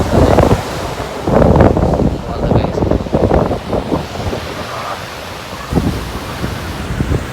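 Ocean waves crash and wash nearby in irregular surges, mixed with strong wind buffeting the microphone.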